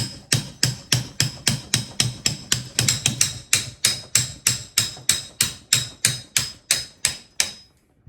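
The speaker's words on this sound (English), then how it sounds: "This right here is a pretty tight fit. We'll see if I tap, tap, tappy will work." A tight-fitting part on a Roadstar RoadWing mod is tapped into place with roughly two dozen evenly spaced, sharp metallic hammer taps at a steady rhythm, close and clear, stopping near the end.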